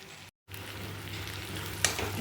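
Chicken masala sautéing in a pan, a steady close sizzle with soft stirring scrapes, broken by one brief dropout near the start and a sharper clink toward the end.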